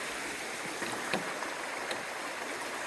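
Steady broadband rush of clear stream water at a river crossing on the Appalachian Trail, continuous and fairly close, with faint clicks on top and no voices.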